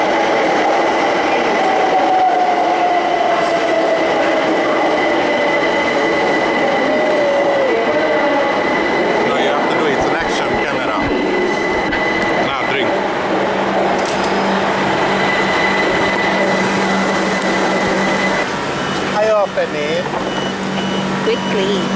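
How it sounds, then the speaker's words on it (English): A train pulls into a station in Brighton and rolls past, a loud, sustained rumble with squealing brakes and rail clatter, while people's voices are heard faintly beneath it. "The train is coming."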